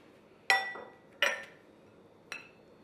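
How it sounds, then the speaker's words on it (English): Seasonings, including black pepper and garlic powder, are mixed in a glass bowl, giving three separate bright clinks of utensil against glass with ringing decays, the last one softer, in an otherwise quiet kitchen. "I'm going to put this in here and we're going to mix it all together."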